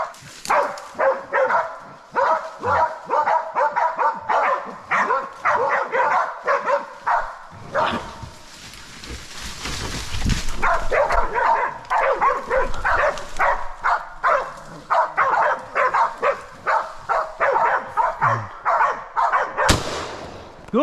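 Hunting dogs bark in a steady, loud, rapid run of overlapping barks at a fat wild boar held at bay in a mountain forest, with a brief lull midway before the barking resumes.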